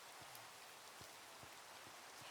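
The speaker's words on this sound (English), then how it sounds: "the rain is so loud" Steady rain falls in the Minecraft game world with the ATM Gravitas 2 modpack, a dense, even hiss of downpour broken by a few soft low patters, with no voices.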